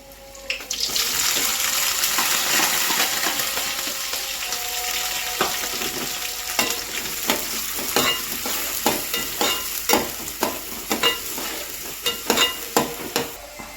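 Shallots fry in oil for a rock fish curry, sizzling steadily up close while a spoon scrapes and stirs the pan in quickening, rhythmic strokes toward the end, with no voices.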